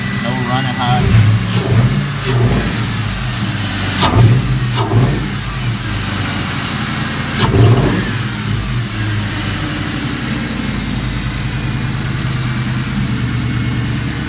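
A New Edge Ford Mustang with a stock, unmodified exhaust, its engine running close by with a few short revs rising from a steady idle, while someone talks over it.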